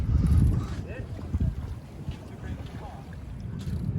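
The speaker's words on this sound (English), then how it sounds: "Seem to be in the middle of a sailboat race or something. It's coming right next to me." Sailboats racing past close beside an anchored boat on open water, with steady wind rush and water noise, a low rumbling swell near the start, and faint passing movement through the clip.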